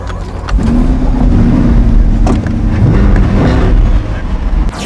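Blue C8 Corvette engine starting and settling into a loud low rumbling idle, heard from inside the car with wind noise and a voice briefly present.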